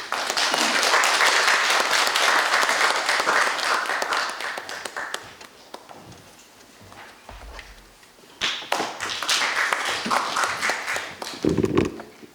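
Crowd applause rings out at the opening ceremony of an academic symposium hall, loud and dense for about five seconds, fading to a lull, then surging again with scattered claps and thumps near the end.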